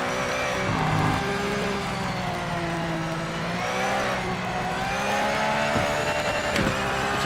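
A Porsche race car driven in the racing game Project Motor Racing, its engine note droning steadily with shifting revs and harmonics throughout, loud and close, with no talking.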